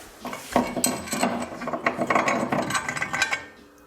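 Clutch puller being worked with a ratcheting tool on an Arctic Cat snowmobile clutch, a rapid series of close metallic ratchet clicks and rubbing, grinding scrapes lasting a few seconds.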